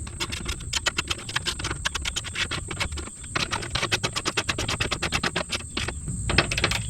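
A ratchet tightening bolts on subframe braces of a 2019 Mustang GT, rapid close clicking in repeated bursts with brief pauses between strokes.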